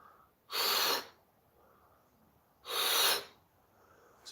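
Wim Hof style breathing during a yoga session: two strong, hissing breaths about two seconds apart, each a sharp inhale flowing into a partial exhale, close and loud with quiet gaps between.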